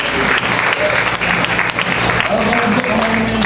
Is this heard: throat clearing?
no